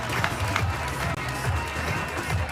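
Crowd at a U-23 European Championship baseball gold medal game between Czechia and Great Britain cheers and claps for a Czech run, a steady roar of applause with a voice heard briefly.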